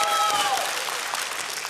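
Audience applause at a live X-Factor Ukraine television show, steady dense clapping from a large crowd that sustains throughout at even loudness.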